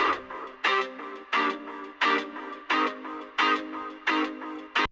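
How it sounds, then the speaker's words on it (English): Dub-style guitar chord stabs played as an offbeat skank with delay echoes trailing each hit, about eight sharp, evenly spaced stabs in a steady rhythm, loud and alone. "Then I've got like a dub delay guitar stab skank kind of thing"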